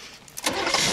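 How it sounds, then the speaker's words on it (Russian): A car engine cranks and catches, then settles into a steady running rumble, heard close and loud in a 1986 film scene. "Start the car."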